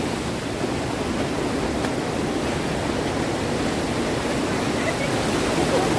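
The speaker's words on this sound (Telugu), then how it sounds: "చూడండి, అలలు దాడి అయితే ఎక్కువ ఉంది, చాలా ఇక్కడ వాటర్ ఫ్లో ఉంది." Steady, roaring broadband wash of ocean surf breaking continuously on Golden Beach, Puri, loud and unbroken with no distinct individual wave crashes.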